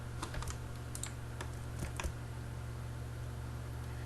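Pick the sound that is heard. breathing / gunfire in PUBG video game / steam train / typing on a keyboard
typing on a keyboard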